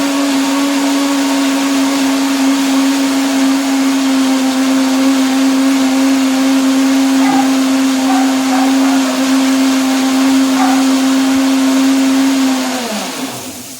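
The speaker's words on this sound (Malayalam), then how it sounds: "ഇപ്പം നമ്മുടെ സവാളയൊക്കെ ചൂടാറിയിട്ട് അത് മിക്സിയിലൊന്ന് അടിച്ചെടുത്തായിരുന്നു" A mixer grinder running continuously as it blends fried onions, a loud steady whine with a strong motor hum that winds down at the end, no talk.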